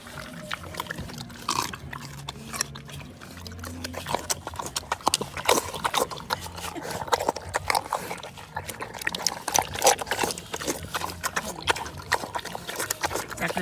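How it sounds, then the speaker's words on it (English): A pig eats slop of banana peel, beets, pickle and pickle juice up close, loud wet smacking, slurping and chomping in a rapid irregular rhythm, with occasional snorts and grunts and no talking. "This is a pig eating slop."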